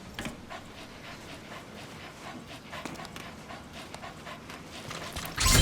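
A dog pants rapidly and steadily in Metal Gear Solid 5, the quick breaths close and continuous, with faint mechanical clicks and a louder burst of noise at the very end.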